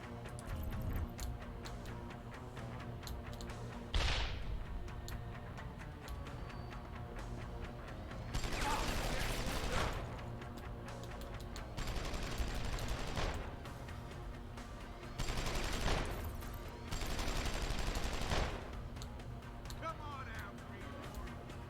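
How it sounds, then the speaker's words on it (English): Bursts of turret gunfire in the video game Deus Ex: Human Revolution rattle out in several separate volleys of a second or two, with a person talking over the game's steady background sounds. "Yes! There are turrets."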